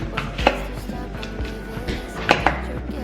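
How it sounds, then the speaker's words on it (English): A knife slices apples for homemade apple cider, making repeated crisp cuts that thud onto a board at an uneven pace, close by, in a kitchen with a low background hum. "we're gonna cut our apples"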